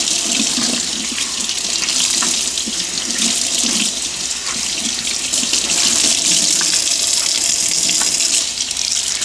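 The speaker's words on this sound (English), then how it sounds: "Just want to rinse off where I put the awesome, the degreaser." Tap water runs steadily for about nine seconds, rinsing degreaser from the interior of a vintage Gucci leather bag at a sink, with an even, close, continuous splashing rush and no talk.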